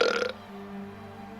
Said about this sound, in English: why are you burping?